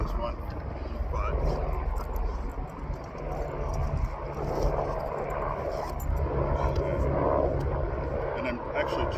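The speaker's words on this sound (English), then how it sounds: "Sorry about the helicopter." A helicopter passes overhead outdoors on grass, a steady low rotor and engine rumble filling the whole stretch at fairly constant loudness, with a person talking over it.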